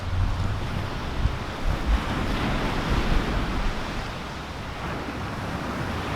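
Ocean waves wash onto a beach in a continuous broadband roar, with some wind buffeting the microphone and no voices.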